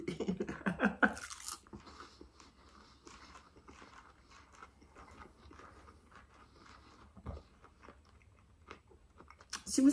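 Crunchy lettuce salad is chewed close to the mic in soft, irregular bites and crunches, with a louder crisp burst near the start and quiet mouth sounds throughout.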